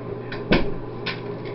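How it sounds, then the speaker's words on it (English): A door swings shut in an indoor room, giving one solid thump near the middle of the clip, with a few softer rustles and knocks before and after it. "Let me close this door."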